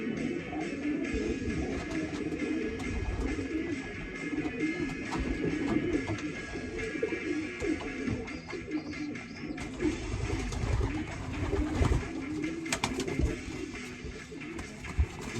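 Pigeons coo around a loft, with repeated soft, throaty calls from several birds close by over steady background noise and some rustling throughout.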